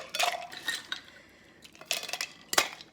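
Ice rattling in a cocktail shaker shaken hard while a Penicillin cocktail is made, bright clattering bursts in quick uneven rhythm, close and fairly loud, with no talking.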